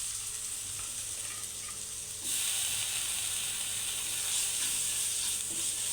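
Crushed onion sizzling in hot oil in a pan for a Kerala-style fish fry, a steady frying hiss that jumps louder partway through as the onion goes in, with faint stirring scrapes.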